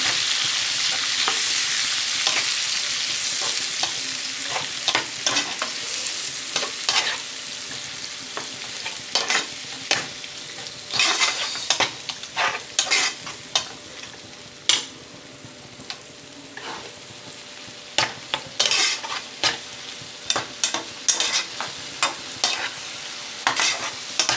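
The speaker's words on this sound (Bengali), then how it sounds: "এবার আমি মশলাটাকে ভালো করে কষিয়ে নেবো" Masala paste with a little mustard paste stir-fried in a pan for a Bengali Batasio fish curry: steady hiss of sizzling oil with repeated scraping and clattering stirs that grow more frequent, close and alone.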